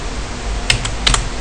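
Computer keyboard keys tapped while entering a terminal command on Ubuntu Linux 14.04: a few quick, close clicks in two small clusters over a steady hum.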